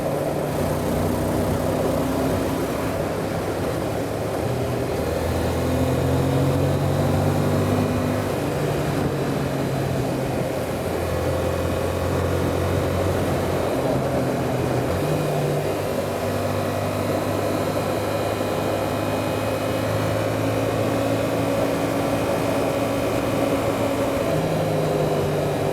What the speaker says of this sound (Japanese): まずはエンジン音をお聞かせしたいと思います